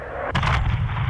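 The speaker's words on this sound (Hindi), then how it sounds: "इसको हम लोग मिसाइल से फोड़ देंगे" A missile blast tears open a gate in Call of Duty: Modern Warfare 2, one loud booming explosion that hits sharply and rumbles on with a deep low roar.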